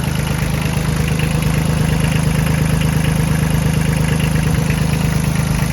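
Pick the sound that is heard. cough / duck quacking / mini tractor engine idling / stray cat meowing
mini tractor engine idling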